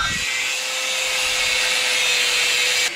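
A power saw cuts through a metal pipe for an Audi A4 LS engine-swap motor mount, giving a loud, steady, high-pitched grinding whine that runs without a break and cuts off abruptly near the end.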